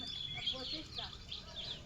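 Bird calls from a flock of about twenty-five geese at a small farm, a mix of short high chirps and cackles over a steady outdoor background while someone talks throughout.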